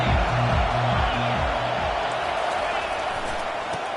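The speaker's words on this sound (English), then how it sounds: "This crowd bringing the energy and noise early." A stadium crowd at a football game sends up a loud, continuous roar of cheering and noise, with low rumbling tones beneath in the first half and a broad, sustained din throughout.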